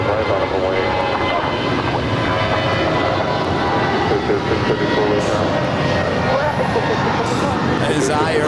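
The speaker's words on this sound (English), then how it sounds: "That is Airways Flight 9440 coming in from Phoenix. Actually, Mesa." Boeing 737-400 jet arriving at LAX from Mesa, Phoenix, its engines a steady loud broadband roar that holds throughout, with a voice speaking over it.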